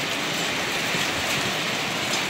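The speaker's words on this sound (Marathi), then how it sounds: "तुफान गारपीट चालू आहे चांदवड शहरामध्ये. गारा पण पडत आहे आणि जोराचा वारा आहे." A hailstorm lashes Chandwad town with heavy rain and strong wind, a loud, dense, unbroken roar of falling water and gusting air that stays constant from start to finish, with no one speaking.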